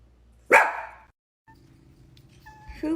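A dog named Momo lets out one sharp, loud bark up close, and it fades quickly into a quiet indoor room with a low hum and a little rustling near the end.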